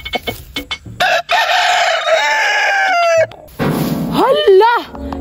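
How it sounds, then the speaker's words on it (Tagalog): Wild jungle fowl rooster crowing in the forest, loud and close, with clucking calls before a long drawn crow and a second rising crow after a short gap. "Naanay ning tuktugaok! Ihalas na gyud ron nga manok!"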